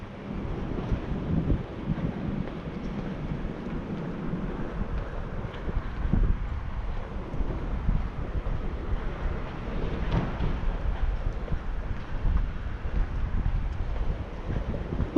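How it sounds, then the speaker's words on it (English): Breeze gusting across the microphone on an outdoor street walk, a steady, loud rumbling buffet with uneven surges that swell and ease throughout, with no talking over it. "First time I've experienced a bit of breeze since starting today's walk."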